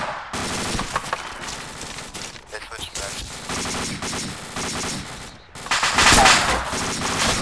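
Arma 2 military game combat: dense, continuous automatic gunfire with rapid overlapping bursts and fusillades, loud and close, with a heavier volley near the end and a few short gaps.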